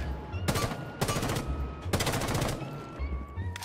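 Automatic gunfire with heavy recoil in the video game Rainbow Six Siege comes in three loud close bursts of rapid shots, separated by short pauses.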